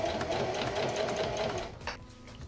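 A sewing machine with a regular presser foot stitches through thick tote bag fabric, a rapid close mechanical chatter of needle strokes that runs steadily, then slows and stops.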